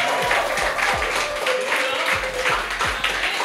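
Clapping from a church congregation at a Christmas Eve service, a continuous, fairly loud patter of many hands with a few stronger rhythmic beats, mixed with crowd noise and a low sustained tone.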